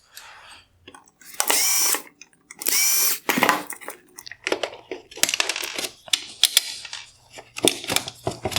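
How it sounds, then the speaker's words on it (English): A power driver removes small T10 Torx screws from a 2015-2018 Porsche Cayenne xenon headlight, giving several short, close whirring bursts separated by quiet gaps, mixed with light plastic clicks and handling noises. "I will remove the 2 T10 torque screws holding on this bottom cover"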